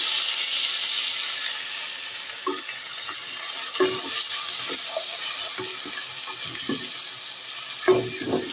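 Tomatoes and green peppers frying in a pan, a steady soft sizzle with repeated spoon scrapes and knocks against the pan as they are stirred, close and moderately quiet with no talk.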